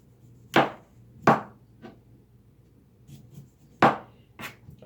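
A knife chops through celery stalks on a cutting board for homemade celery juice, giving a handful of crisp, close, irregular thwacks with short pauses between them and no talking.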